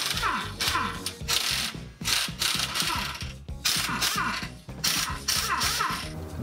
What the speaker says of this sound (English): let's break those nuts loose with a 14 millimeter socket